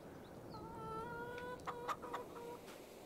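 Faint hens in the video game Farming Simulator 22 cluck and warble in short, drawn-out calls over a soft background hiss, a few overlapping notes spread across the moment.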